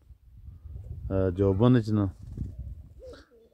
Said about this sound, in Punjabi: ਇਹ ਕਬੂਤਰ ਜਨਾਬ ਆਪਣੀ ਇੰਪ੍ਰੈਸ ਕਰ ਰਹੇ ਆ